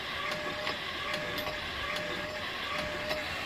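A well pump with a Scotch yoke drive and a 24-volt motor, installed on a 36-foot sand-point well with 2-inch casing, runs with a steady mechanical whir and regular clicking strokes about every half second.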